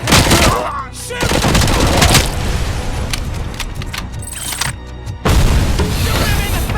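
Gunfire in the video game RoboCop: Rogue City during an attack on a courthouse: loud, dense bursts of shots and booming impacts in rapid succession, with shouted game dialogue mixed in.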